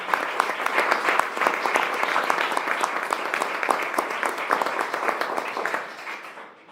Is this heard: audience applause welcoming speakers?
yes